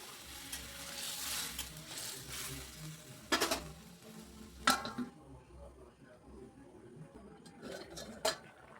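Gravy is poured into a pan of fried gandal leaves for singi fish curry, setting off a steady sizzle with a few sharp clanks of utensil against the pan.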